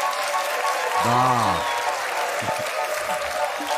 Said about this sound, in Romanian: Să o primim cu aplauze pe Alexandra Stancu.